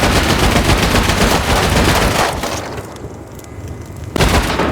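Dense, loud gunfire fills a video game battle, a continuous rattle of rapid shots that thins briefly before a fresh burst near the end, with no talk.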